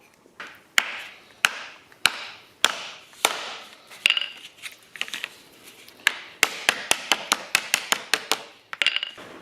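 A metal motorcycle windshield bracket for a Kawasaki Z900RS is struck repeatedly to flatten it, about twenty sharp close taps and knocks in irregular bursts, quickening toward the end, with no talk.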